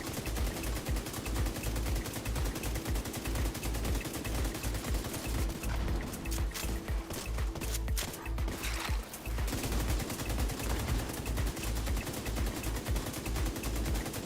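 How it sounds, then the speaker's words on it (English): Rapid automatic gunfire from a Pestilence build in The Division 2, a shooter video game, rattling in long, continuous bursts with dense overlapping shots and a brief change in texture partway through, with no talking. "Putting a shit ton of shots into his back."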